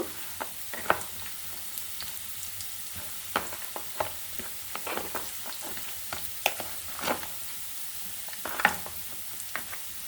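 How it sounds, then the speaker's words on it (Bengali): Spice-rubbed fish, coated with coriander, cumin and salt, sizzles in a pan with radish while a spatula scrapes and stirs it, steady frying under sharp irregular clatters and scrapes up close, no talking. "মাছটা দিয়েছি এখন আমি ভালো করে কষিয়ে নিব"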